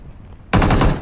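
Video game gunfire erupts abruptly after a quiet half second: a loud, close burst of rapid automatic shots that fills the rest of the moment.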